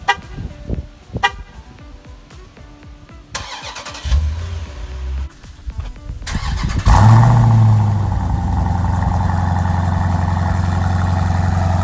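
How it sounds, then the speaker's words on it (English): A Jeep SRT engine starts, then idles with a loud, deep rumbling exhaust through a custom stainless steel X-pipe that holds steady. Quieter clicks and engine noise come before it. "give you a little taste of what this exhaust sounds like"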